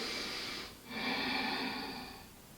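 Steady nasal breathing during a strong yoga flow forward fold, a drawn-out breath with a short pause near the middle, close and fairly quiet with no talking.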